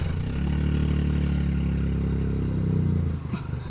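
A Smart car fitted with a FastReligion exhaust idles with a steady, deep rumble, then its engine note drops off near the end.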